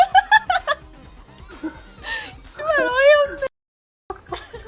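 A cat gives a drawn-out meow among people laughing and chattering nearby, with brief giggles before and after.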